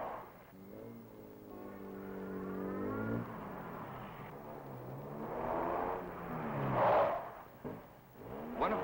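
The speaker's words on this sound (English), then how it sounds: "There's a car just finishing on the Cloverleaf circuit." A Chevrolet Corvair running a gymkhana autocross cloverleaf course, its engine revving up and down through turns at moderate distance, with rising and falling pitch as it accelerates and brakes.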